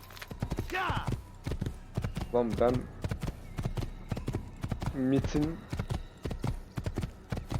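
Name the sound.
horse hooves clip-clopping in the video game Assassin's Creed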